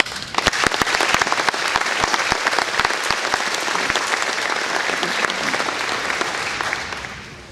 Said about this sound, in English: Please give these young men another round of applause